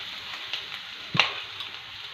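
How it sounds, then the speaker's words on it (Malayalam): Grated coconut sizzles steadily in hot coconut oil, a close, even frying hiss with one brief stirring clatter midway. "ചൂടായ എണ്ണയിലേക്ക് നമ്മൾ ഇതാക്കി വെച്ച ചിരണ്ടി വെച്ച തേങ്ങയുണ്ടല്ലോ തേങ്ങ ഇട്ട് കൊടുക്കുവാണേ"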